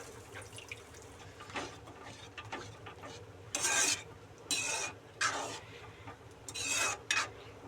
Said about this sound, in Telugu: ఇందులోనే కొద్దిగా చింతపండు వాటర్ కూడా వేసేసుకోవాలి.